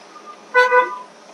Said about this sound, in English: I'm gonna honk just in case somebody's walking behind me